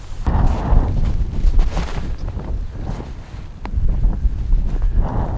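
Strong gusts roar across the microphone outdoors during a disc golf throw, a loud, buffeting rush that swells and eases in waves for several seconds with no other clear sound.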